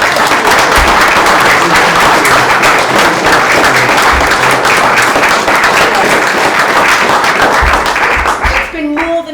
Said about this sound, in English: Can we give Elise and the team a round of applause?